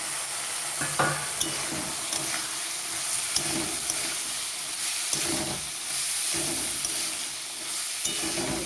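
Vegetables for a homemade vegetable pasta sautéing with spices in a pan, a steady broadband sizzle with intermittent stirring scrapes and clinks, close and moderately loud, with no talking.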